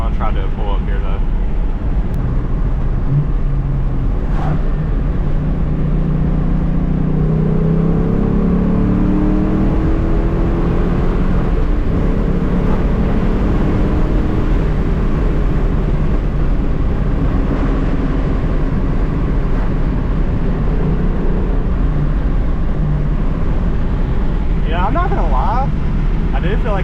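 A New Edge Ford Mustang fitted with a JLT cold air intake drones on the road with a steady low engine rumble and a gradual rise in pitch as it accelerates, heard from inside the car with road noise.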